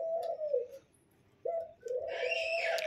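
Australian gugu doves kept in a cage give soft, clear cooing phrases, two separated by a short pause, with faint higher chirps rising near the end.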